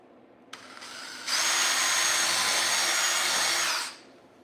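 A power drill whirs up, then bores steadily into a wooden birdhouse at a high, even pitch for a few seconds before winding down; close and loud.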